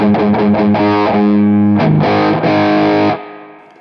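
Electric guitar played through a Tech 21 Trademark 60 amp with the punch control fully up, heavily distorted, sounding as a run of chugging notes and sustained chords that rings out alone and then cuts off.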